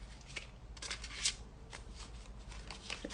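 Tarot cards are shuffled by hand, a continuous soft riffling and sliding with brief louder flicks, close and quiet with no talk.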